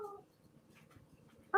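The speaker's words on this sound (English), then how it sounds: "My daughter's dog is crying, wanting me to pick her up" A dog cries with short high whimpers, one at the start and another at the end, close by in a quiet room with no one talking in between.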